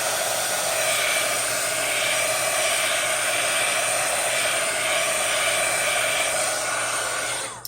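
A hair dryer blows steadily and loudly to dry oxide ink on an embossed junk journal cover, a constant hissing whoosh that keeps going without a break and then clicks off right at the end.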